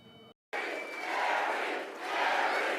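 A crowd of supporters roars and cheers at a Kari Lake Senate campaign rally in North Scottsdale, a dense, loud wall of shouting that swells after a brief gap and holds steady throughout.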